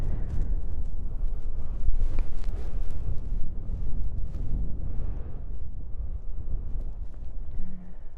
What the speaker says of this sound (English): Okay, it's getting super windy.